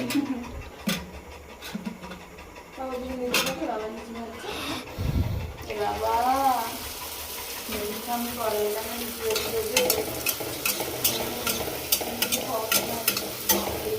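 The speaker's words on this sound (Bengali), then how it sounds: "আমি এখানে লুচি ভাজছি" Luchi, puffed flatbread, deep-frying in hot oil, crackling and sizzling up close while people talk and a dog pants nearby.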